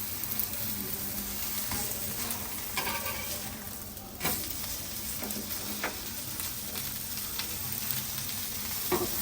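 Dosa batter sizzling and frying in a little oil on a non-stick pan, a steady close crackle running throughout with a few brief louder spatters, no talk.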